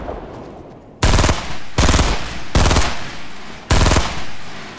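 Shotgun blasts from the video game Fortnite boom out four times at roughly even intervals, each loud and sharp with a short decaying tail, over quiet background noise.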